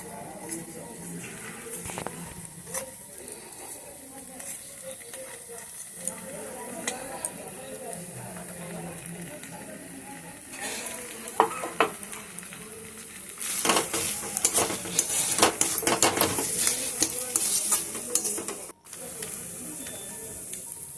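Potato, cauliflower and pea kachori filling stirred in a pan, a low sizzle with scattered scrapes that grows into a louder, steady frying hiss toward the end, with a voice talking at times.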